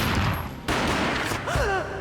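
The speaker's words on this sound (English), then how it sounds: "A gunshot boomed and she fell down in slow motion." Gunshot in the video game Max Payne, heard as a loud, dense boom of noise that swells abruptly partway through, with a slowed, echoing tail and a faint warbling sweep near the end.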